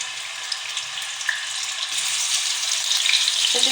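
Chicken sizzles and fries in a pan with about three spoons of oil, a steady close hiss of frying for Korean-style BBQ, with a few small clicks and stirring sounds and no talk.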